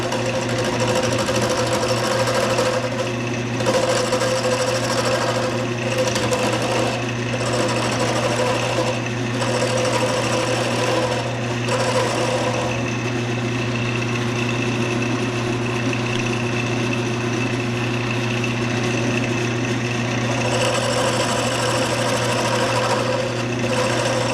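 A wood lathe spins a wooden pen blank as it is turned down into a cylinder, a steady loud motor whine with a constant low hum and rough scraping cut texture that drops out briefly in several short pauses.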